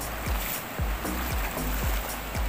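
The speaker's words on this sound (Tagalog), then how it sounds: "Ayan ang tubig, dagat." Sea water sloshing and lapping in irregular surges, with soft thuds as if against a boat hull, fairly close and moderately quiet.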